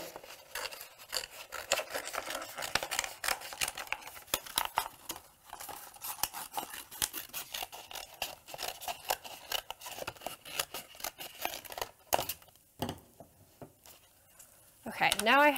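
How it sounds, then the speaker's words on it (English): Scissors trim an Infusible Ink transfer sheet for a Cricut bag project, with rapid, close, crisp snips repeating for about twelve seconds and some light crinkling of the sheet. "So I'm just gonna trim it down so it's a little bit easier to work with."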